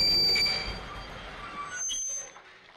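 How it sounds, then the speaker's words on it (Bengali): Train noise with faint high-pitched wheel squeals, fading as the train slows and settles arriving at Pratapgarh station, with a brief hiss near the end. "কিছু সময় পরেই ট্রেনটি প্রতাপগড় স্টেশনে এসে পৌঁছায়।"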